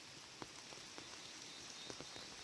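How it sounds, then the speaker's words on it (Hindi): Rain has been falling all day on a forest setting, a steady soft hiss with scattered faint drip ticks, quiet and continuous with no voices. "आज पूरे दिन से बारिश हो रही है"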